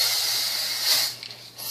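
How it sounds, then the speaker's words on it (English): Hairspray hisses from an aerosol can onto hair being styled into victory rolls, a steady close spray lasting under two seconds with a brief break near the end. "spray the bejesus out of it"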